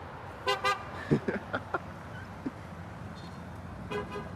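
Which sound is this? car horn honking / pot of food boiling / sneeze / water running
car horn honking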